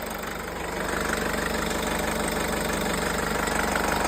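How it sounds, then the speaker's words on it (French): A 2016 Honda CR-V 1.6 i-DTEC diesel engine idles after restarting, a steady close rhythmic clatter that settles into an even, continuous hum. "vous redémarrez et automatiquement le moteur va se démarrer au bout de quelques secondes"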